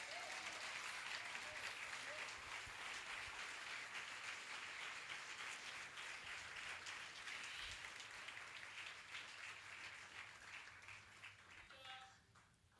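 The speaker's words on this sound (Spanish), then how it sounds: "Puede darle todavía una ofrenda de palmas al Señor." Church congregation applauding during an anniversary service, a steady dense wash of many hands clapping that holds for about twelve seconds, then thins out and fades near the end.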